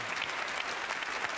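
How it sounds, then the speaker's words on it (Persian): Studio audience applause on a TV show, a dense even wash of clapping that holds steady and fairly loud for the brief moment. "تشویقش کنیم."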